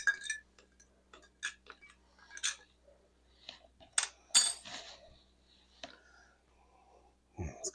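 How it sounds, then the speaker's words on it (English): Spoon stirring a homemade coffee rub in a bowl, a series of light scraping clinks and taps with pauses, close and quiet. "Give it a little stir."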